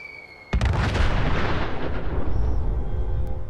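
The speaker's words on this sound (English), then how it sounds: "It is a Liberty grenade." A Liberty grenade detonating as a nuclear blast in Fallout 4, a sudden booming roar that bursts in and rumbles on loudly without fading.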